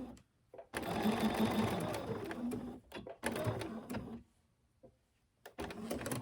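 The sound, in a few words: sewing machine top stitching a fabric mask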